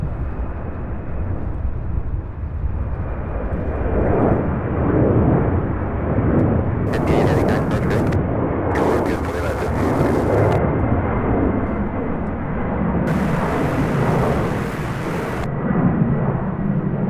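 An airplane departs from runway 35 left at SDF with a loud, sustained, rumbling jet roar, heard steadily from nearby, broken by a few harsh bursts of crackle.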